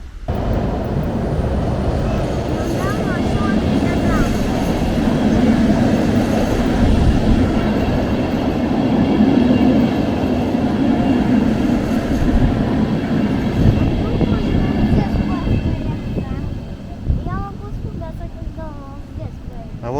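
A train rolls past on rails, a loud continuous rumble with steady wheel noise lasting the whole stretch, while people talk over it.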